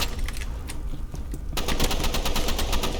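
Rapid automatic gunfire from an online shooter game, Roblox Rivals, bursts out loud and continuous in dense repeated shots after a quieter opening stretch with scattered single pops.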